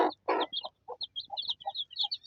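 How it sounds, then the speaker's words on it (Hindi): A hen with week-old chicks: a couple of low clucks from the hen followed by a run of high, thin peeps from the chicks, close and fairly quiet, no talking. "और ये देखें मुर्गी है, देखें मुर्गी चूचों के आगे हो गई।"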